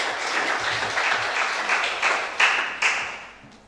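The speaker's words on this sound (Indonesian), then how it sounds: "Tepuk tangan bagi Tuhan kita." Church congregation applauding during a Sunday service, steady clapping with a few sharper bursts near the end before it fades away.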